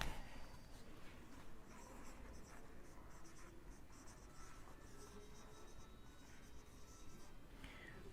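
Pen scratches steadily across paper while a physics problem on a charged wire is worked out, a quiet, close, continuous rubbing with no talk over it.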